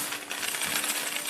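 Gold coins clink in a dense, steady shimmer of metallic jingling, loud and close, like a handful poured or shaken as a sound effect, with no voices.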